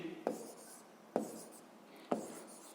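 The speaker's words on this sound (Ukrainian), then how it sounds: "Отже, записуємо тоді за даними задачі." A pen writes on paper in three short, evenly spaced strokes, each starting with a crisp tap and trailing off into a faint scratch, quiet and close in a still room.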